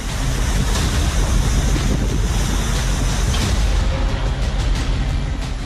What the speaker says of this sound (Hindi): देखिए कैसे पानी पूरे रफ्तार से चप्पे चप्पे को अपने जद में लेने को आमादा है।